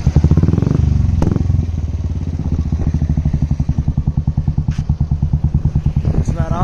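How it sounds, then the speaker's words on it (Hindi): A Royal Enfield Classic 350 single-cylinder engine idles close up with an even, rapid thumping exhaust beat, broken by a few sharp cracking pops from the exhaust. "पटाखा फूट रहा है क्योंकि BS3 इंजन है"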